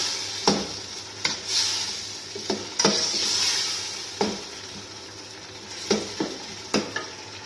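Whole spices and green chillies sizzling in hot oil for mutton biryani, a steady close hiss punctuated by repeated sharp clinks and scrapes of a spoon against the pot, no talking.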